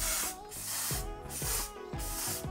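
Bursts of hair spray aimed at styled men's hair, three loud close hissing sprays in steady rhythm, each cut by a short pause, with faint handling sounds underneath.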